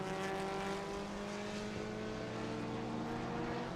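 Vintage race cars at Road America roar past together in a steady, dense engine drone with layered tones that holds at a constant loudness throughout, with no voices.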